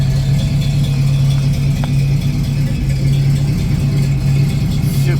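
A 1966 Ford Mustang GT350H tribute with a C-code 289 V8 and automatic transmission runs steadily at idle, a close, continuous low engine hum with slight rattle throughout.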